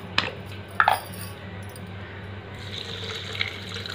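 Cool water poured into a blender jar with cocoa powder and Dairy Milk chocolate for a summer dry-fruit drink, a soft steady splash that swells in the latter half after a few faint kitchen clinks.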